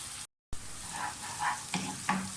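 Onions frying in a pan for bhuna mutton gosht, a steady soft sizzle with a brief dropout and a few light stirring clicks, no talking.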